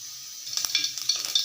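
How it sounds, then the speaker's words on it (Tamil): Mustard seeds crackle and pop in hot groundnut oil in a pan, a quiet run of small irregular bursts over a steady sizzle, with no voices. "கடுகு பொரிஞ்சிருச்சு"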